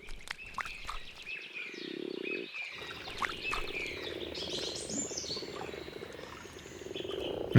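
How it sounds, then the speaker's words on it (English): Grass frogs gather at a forest spawning pond, a chorus of croaks mixed with bird chirps and duck-like calls, steady and moderately near with no voices. "where every year grass frogs gather to spawn"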